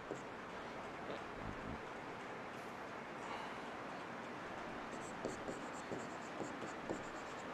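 Faint scratchy strokes of writing on a board during a live lecture on reinforced concrete column design, with short bursts of marks and small taps spread across a quiet, hissy room.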